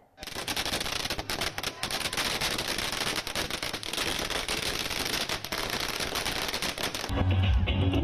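Firecrackers burst nonstop as BJP and Janata Dal (United) party workers celebrate an alliance election victory, a dense, loud, rapid crackle of pops and bangs that gives way to a low rumble at the end.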